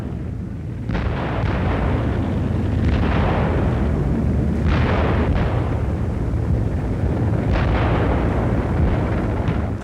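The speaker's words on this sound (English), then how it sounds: "The mortar was used for the first time." First World War mortar fire on an archival film soundtrack: loud, continuous rumbling with heavy booms recurring every couple of seconds over a dense, noisy background.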